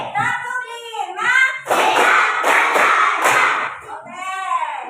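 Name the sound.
class clapping in counted rhythm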